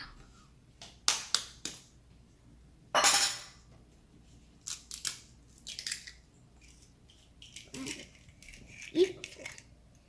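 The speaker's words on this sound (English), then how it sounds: "And then the 3 eggs. Let's crack that up." Three eggs cracked one after another for almond flour brownies, each a brief sharp crack and clink against a bowl, close by and separated by pauses, with quiet kitchen handling between.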